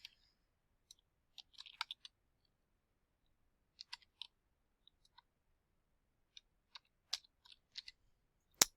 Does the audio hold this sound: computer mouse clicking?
yes